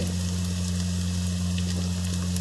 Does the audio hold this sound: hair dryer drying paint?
no